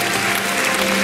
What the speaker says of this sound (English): Ladies and gentlemen, please applaud for Marie Violet